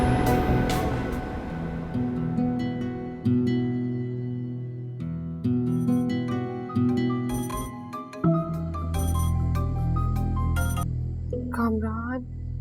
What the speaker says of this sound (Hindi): कामरान फोन उठाओ, कहाँ रह गए हो तुम?